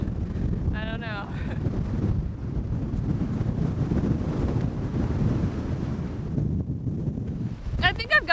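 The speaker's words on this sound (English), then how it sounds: "This is a very strong wind" Very strong wind buffets the microphone on a rocky coast with a green sand beach, a steady loud roar and rumble throughout, with brief bird-like chirps near the start and end.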